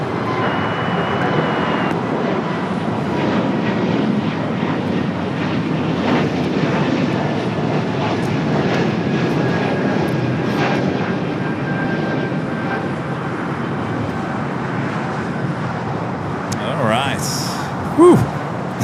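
An arriving airliner at LAX roars steadily and fairly loud throughout, a broad engine rumble holding level with faint radio chatter and voices under it.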